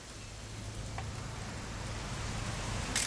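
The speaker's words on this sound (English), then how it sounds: "It's gonna rain the whole weekend, isn't it?" Steady rain in the video game What Remains of Edith Finch, a soft continuous hiss of falling drops that swells slightly toward the end, with no talking over it.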